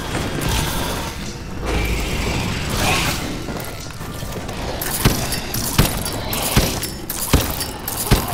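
Weapon reload in Call of Duty Advanced Warfare Exo Zombies on the Descent map: dense game noise with a series of sharp mechanical clicks and clacks toward the end, loud and close, no speech.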